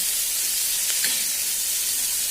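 Tomatoes cook in a pan for poha, giving a steady, even sizzle and hiss that runs unbroken at moderate loudness, with no voices.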